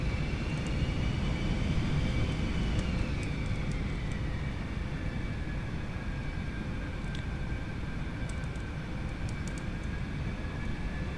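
Steady aircraft engine drone in X-Plane 11 while taxiing, holding a continuous loud roar with a rising whine as power is spooled up to turn on the ground.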